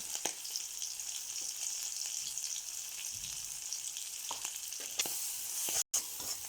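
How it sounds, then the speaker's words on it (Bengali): Bottle gourd peel and shrimp sizzle steadily in hot oil while being stirred, with a continuous crackling hiss and occasional scraping clicks of the spatula, close and even throughout. "দিয়ে দেওয়ার পরে সবগুলা ভালো করে মিক্সিং করে ভেজে নেওয়া হচ্ছে"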